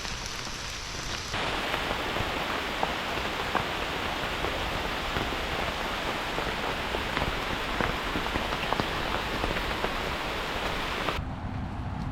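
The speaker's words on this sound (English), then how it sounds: "The rain's not so bad at least," Steady rain pouring down on the Appalachian Trail, a dense hiss of drops spattering on surfaces, close and continuous with no voices.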